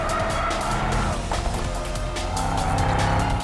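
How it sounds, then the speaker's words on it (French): A Mercedes E63 AMG S in Drift mode, with its 850 Nm of torque sent to the rear wheels on a circuit, howls with its engine and squeals its tires in one continuous, loud slide. "il suffit d'enclencher le mode Drift, histoire d'envoyer les 850 Nm de couple sur les seules roues arrière"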